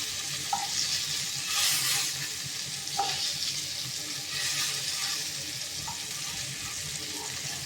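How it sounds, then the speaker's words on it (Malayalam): Fish with scored sides fries in a pan on a home kitchen stove, a steady close sizzle and hiss that runs throughout, with a few soft clinks. "ആ കൂട്ടത്തിൽ നമ്മുടെ മീനും പൊരിക്കാൻ വേണ്ടിയിട്ട് വെച്ചു"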